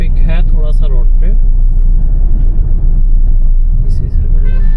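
Light traffic on a two-lane road near Bhandara district, India, a loud steady rumble of passing cars and heavier vehicles heard close by, with someone talking over it.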